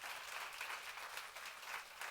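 A church congregation claps together during a sermon, a brief burst of faint, steady applause heard at a distance.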